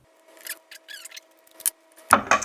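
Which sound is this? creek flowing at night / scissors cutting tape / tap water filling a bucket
scissors cutting tape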